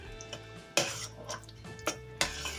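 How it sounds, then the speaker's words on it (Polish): Ingredients being stirred in a pot while butter melts over low heat, with a few distinct spoon clinks and scrapes against the metal at irregular intervals over a quiet, faint background. "Mieszamy ze sobą składniki, rozpuszczamy masło."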